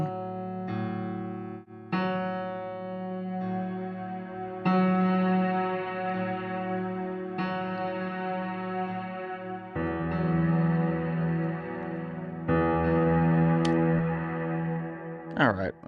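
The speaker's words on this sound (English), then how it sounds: "So let's put the Vox Box on, and then I'll put the reverb on." A vocal line processed through a Vox Box effect with reverb added, sounding as sustained, buzzy, harmonically rich tones that change pitch every couple of seconds and have a lingering echoing tail.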